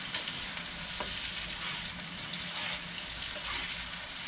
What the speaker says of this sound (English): So it's frying up.